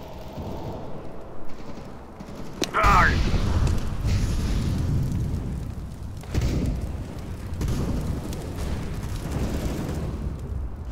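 A flashbang grenade in CS GO bursts with a sudden sharp bang, followed by a dull rumbling roar under excited players talking.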